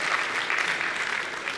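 Steady applause from the audience at a Volkswagen Group new car presentation in Paris, a dense even wash of clapping throughout with no voices over it.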